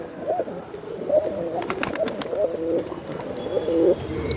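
Pigeons of the Sabja line coo steadily at a home loft, soft repeated low coos running throughout with a few faint higher bird sounds mixed in.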